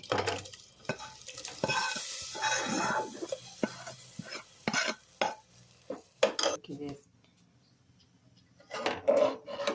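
A spoon scrapes and clinks against a metal pan in short irregular bursts while stirring tempering into tomato rasam, with a faint sizzle between strokes and quiet pauses.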